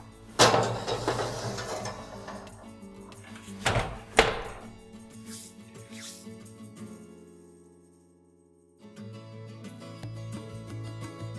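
Kitchen handling as a chocolate cake goes into an oven set to 165 degrees: a few sharp clattering thunks of metal and the oven door, separated by quieter moments, fairly faint overall.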